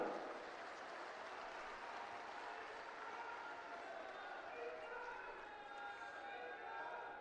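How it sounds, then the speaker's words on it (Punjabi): Faint crowd applause rises as a broad, even patter of clapping from an audience at a political rally in Punjab, steady throughout and heard from a distance. "ਜੇ ਤੁਸੀਂ ਮੇਰੇ ਨਾਲ ਸਹਿਮਤ ਹੋ ਜ਼ੋਰਦਾਰ ਤਾੜੀਆਂ ਮਾਰ ਕੇ ਹੌਸਲਾ ਵਧਾ ਦਿਓ"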